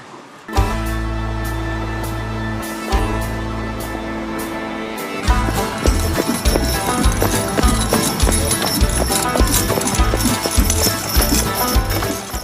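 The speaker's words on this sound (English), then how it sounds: "The clatter of hooves, the jingle of harness, the rattle of carts and wagons." Heavy Clydesdale horse hooves clip-clop on a hard surface in a steady walking rhythm, close and clear, with harness jingle and cart rattle around them.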